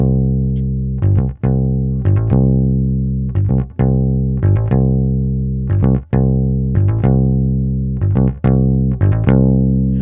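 An electric bass plays a bouncy, repeating one-bar country groove, low notes plucked with short gaps and a steady rhythm, loud and alone.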